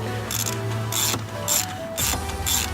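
Ratchet wrench with a spark plug socket working a spark plug out of a Nissan Xterra engine: quick repeated clicking strokes in short rhythmic bursts, close and clear over a faint background hum.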